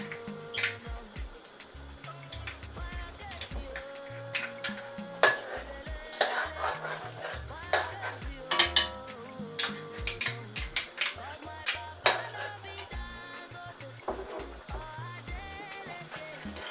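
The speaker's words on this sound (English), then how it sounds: "So now I'll be stirring it together for it to boil properly" A spoon stirring palm oil in a cooking pot for ofe onugbu, bitter leaf soup: repeated metallic clinks and scrapes against the pot in an uneven rhythm, close and fairly loud, over a faint low simmer.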